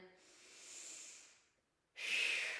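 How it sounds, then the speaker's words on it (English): Quiet, close breaths during a slow flow yoga class: a long, soft airy breath fades into a brief silence, then a stronger, hissing deep inhale follows. "Breathing in"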